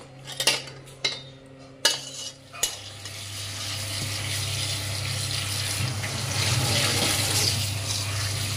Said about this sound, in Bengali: এই মাছটা ধুয়ে নিলাম, ভালো করে ধুয়ে দিচ্ছে